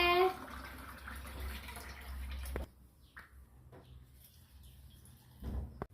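Water pours into a cooking pot for butterfly pea flower tea, a steady rushing splash lasting about two and a half seconds, with a brief voice at the start and quieter kitchen sounds afterward.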